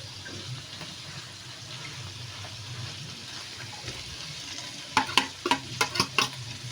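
Vegetables for pansit frying in a pan, a steady soft sizzle throughout with a cluster of sharp clattering stirring knocks near the end.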